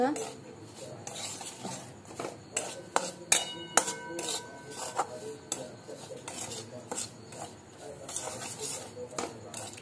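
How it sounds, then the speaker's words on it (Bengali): Semolina is stirred in a pan with a utensil, giving irregular scraping and clinking metal knocks at close range, some sharp taps standing out, with no talk. "এবার এটা নাড়তে থাকতে হবে।"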